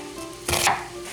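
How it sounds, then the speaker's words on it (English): One firm knife chop through an onion on a cutting board, close and fairly loud, a single thud-like cut over quiet room tone followed by a faint low knock. "We're gonna chop up this onion to go in there with the ground beef"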